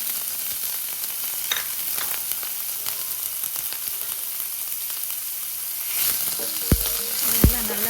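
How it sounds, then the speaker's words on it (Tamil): Onions, urad dal, cumin and green chillies frying in a pan, a continuous crackling sizzle with scattered ticks and pops and a couple of clunks of a spatula near the end; no talking. "இந்த வெங்காயம் இதை நல்லா ஃப்ரை பண்ணிக்கோங்க, ரொம்ப ப்ரௌனாக வேண்டாம்"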